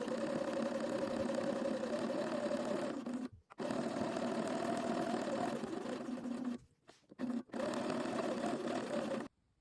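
A sewing machine stitches a folded 1.5 cm hem, a close, steady motorized hum with a rapid needle rhythm that runs in long bursts, stops twice briefly, and starts again.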